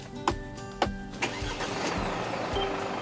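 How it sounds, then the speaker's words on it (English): A Mercedes camper van engine started with the push start button, several sharp cranking pulses that catch and settle into a steady idle, close by. "To start the engine, put your foot on the brake and press the start button."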